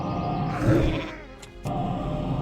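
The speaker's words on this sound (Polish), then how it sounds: "lepiej tego zamienię w owce" Sheep bleating from a Polymorph spell in World of Warcraft Classic, a short wavering bleat rising over game ambience, followed by brief sharp effect sounds.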